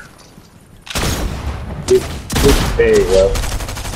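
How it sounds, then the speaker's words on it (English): Machine gun fire in a Fortnite match comes in loud, sharp bursts. One burst stands alone, then denser volleys follow, with a player's voice briefly talking over them. "So I got a machine gun out."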